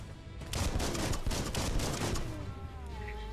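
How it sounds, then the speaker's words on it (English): Gunfire in the video game Biomutant, a dense burst of overlapping shots lasting a couple of seconds before trailing off into a softer rumble. "Bullets everywhere."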